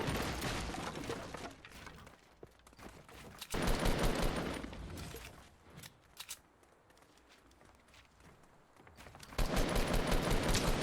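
Gunfire in the Fortnite video game comes in loud rapid volleys in separate bursts, with quieter gaps of scattered shots and footsteps between them.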